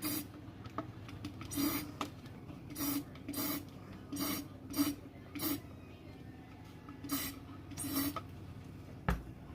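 Short bursts of aerosol acrylic coating spray hiss repeatedly at irregular intervals, close up, over a low steady background hum.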